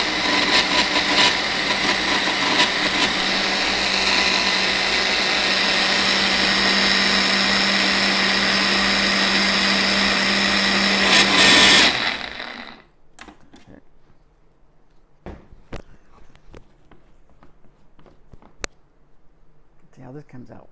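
A kitchen blender chops cashew nuts for homemade cashew milk: a loud, steady whirring roar for about twelve seconds that cuts off abruptly, followed by quieter scattered clicks and clatter of handling the jar.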